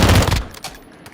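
Rapid burst of rifle fire from a long-range gun in a video game, a dense cluster of sharp loud shots in the first half-second, then tapering echoes and a quieter tail.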